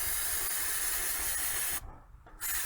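Nut Buster penetrating oil sprays in a loud, close, continuous hiss onto the front strut bolts of a Hyundai Santa Fe. The spray cuts off briefly, then resumes.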